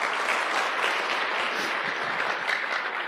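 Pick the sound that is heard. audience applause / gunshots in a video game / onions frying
audience applause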